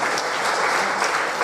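A church congregation at an El Shaddai worship service claps steadily, a dense, continuous wash of many hands at even loudness throughout.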